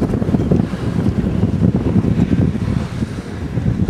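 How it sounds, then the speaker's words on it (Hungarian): Strong wind buffets the microphone in loud, rumbling low gusts, with no voices present. "te is fúj a szél"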